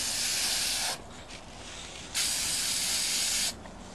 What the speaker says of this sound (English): Start to spray. Don't spray everything at one time. Just put a little spray on.